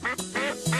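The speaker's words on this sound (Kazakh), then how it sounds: "үйрек" A duck quacks three times in a quick, evenly spaced series, each call nasal and clear, with nothing else underneath.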